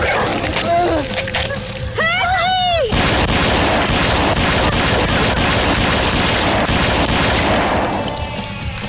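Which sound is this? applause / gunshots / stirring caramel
gunshots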